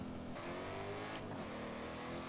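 A Bugatti Divo in the racing game Forza Horizon 5 revs its engine in a sustained high-pitched roar, with a brief dip and shift in pitch partway through, heard alone with no talking.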